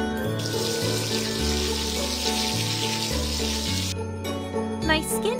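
Running water from a tap splashes continuously in a makeup salon game as a face is rinsed, mixed with bright game music and a brief chime near the end, with no speech.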